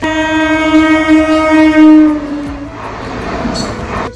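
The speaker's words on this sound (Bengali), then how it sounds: "এক্ষুনি ট্রেন আসবে" A train arriving at a railway platform sounds a loud, sustained horn for about two seconds, then the rumbling clatter of the approaching cars takes over, with no talking.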